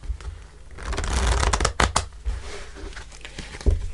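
Tarot deck being shuffled by hand at close range, a dense papery riffle and flutter of cards that swells and fades over several seconds, with no talking.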